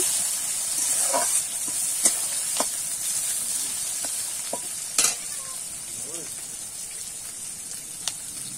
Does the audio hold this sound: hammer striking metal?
no